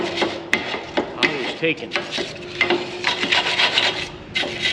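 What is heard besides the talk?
wire brushing rusty clamp bolts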